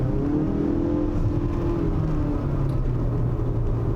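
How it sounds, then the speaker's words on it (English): A 2019 Mazda CX-5 SUV engine in sport mode holding elevated revs, a steady close droning hum with low rumble and a faintly rising tone, continuous and alone without voices. "I'm in the sport mode right now, which is why it's holding the revs up a little bit higher than it normally would"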